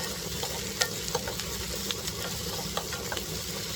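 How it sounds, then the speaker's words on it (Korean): Dried greens stir-fried in a pan over high heat: a constant close sizzle with the soft scrape and tap of a spatula turning them at irregular moments, and no voices. "여러분 지금 센 불에서 쭉 볶으셔도 돼요"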